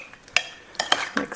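A spoon stirring sugar into fruit in a bowl, producing a few light, irregular clinks and scrapes close by, with no talking.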